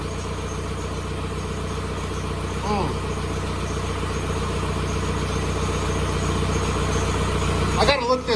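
A Volkswagen engine undergoing injection pump quantity adjuster work idles steadily for several seconds, an even low mechanical drone under faint voices, with a brief clatter near the end.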